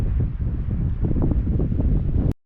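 Strong wind roars across an exposed mountain ridge in North Wales in extreme conditions, a loud, steady buffeting rush against the microphone that cuts off abruptly near the end.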